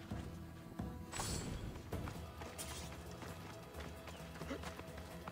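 Horse hooves clip-clopping in Assassin's Creed Odyssey, a steady muffled patter of hoofbeats under dense ambient game sound, with occasional thuds and a brief sharper crash early on.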